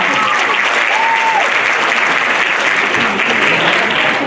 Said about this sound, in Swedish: kom igen och klappa och jubla